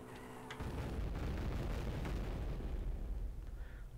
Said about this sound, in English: Explosions does make the game lag.